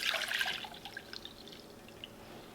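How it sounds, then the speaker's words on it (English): Sugar syrup is poured into a cup, a bright liquid splashing and trickling that is strongest at first, then tapers into scattered faint drips. "We're gonna pour essentially a liter of this in this cup"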